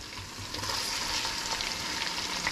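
Steady, close sizzling and crackling of okra frying in hot oil in a pot, with faint stirring noises and no talking.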